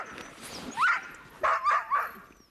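Sled dogs waiting to be fed on a blend of dog food, oils and bone meal bark and yip excitedly in several overlapping bursts, fairly close and loud.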